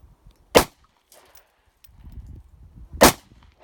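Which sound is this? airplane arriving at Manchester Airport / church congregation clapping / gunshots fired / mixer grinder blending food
gunshots fired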